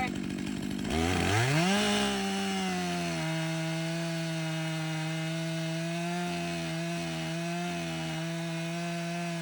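A chainsaw runs steadily while cutting wood, its engine revving up briefly at the start and then holding a loud, sustained drone with slight dips in pitch as the bar bites.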